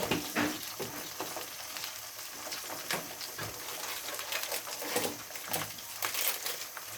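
Spices and oil sizzle steadily in a pan for a garlic and mango pickle, with continuous frying crackle and intermittent stirring scrapes, close and fairly loud throughout.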